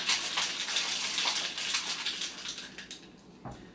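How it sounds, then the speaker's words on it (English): A cocktail shaker is shaken hard while mixing a White Cosmopolitan, giving a steady, rushing, rattling wash that is loud and continuous at first and then fades out, with no talking. "I'm going to shake it up like this."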